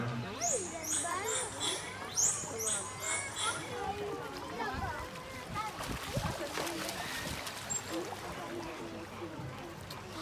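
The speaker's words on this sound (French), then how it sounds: "C'est le sifflement de signature de Han Tan." A captive dolphin's recorded signature whistle sounds as a quick run of about six repeated high whistles near the start. The whistles fade out under someone talking, and faint splashy noise lingers behind.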